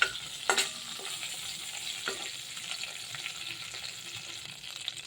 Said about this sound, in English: some cumin seeds, bay leaves and dry chili. Slightly fry it.